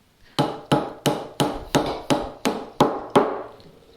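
Chisel struck with a mallet to chop a mortise in wood: nine sharp, evenly spaced knocks, close and loud, each with a quick decay.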